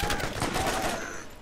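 Rapid gunfire from the video game Borderlands rattles on for about a second and a half, a dense burst of shots that stays loud throughout.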